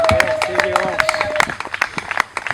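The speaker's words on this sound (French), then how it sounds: "Oh, donnez les acclamations pour le vainqueur." Church wedding congregation applauding, with dense quick claps and crowd noise under a loud voice speaking over them.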